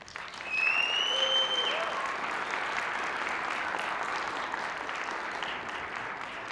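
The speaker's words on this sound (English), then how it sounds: "please hold your applause to the end" An awards ceremony audience applauds, sustained clapping rising sharply within the first second and holding steady for several seconds, with a brief whistle near the start.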